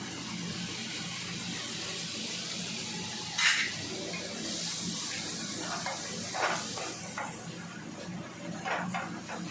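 Chopped chillies frying in a pan as butter is added, a steady hiss with a sharp sizzling burst partway through and scattered crackles and pops. The sound is close and moderately loud, with no one talking.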